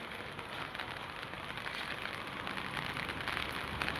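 A downpour falls without letup, the close, even roar of heavy rain beating on surfaces for several seconds, no one speaking.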